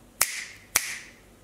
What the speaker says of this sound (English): Double clap.